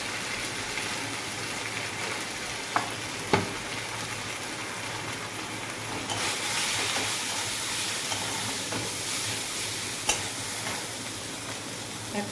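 Ground coriander, chili and turmeric powder sizzle and fry steadily in a hot pan, a continuous bright hiss with occasional soft clicks and stirring scrapes, no talking.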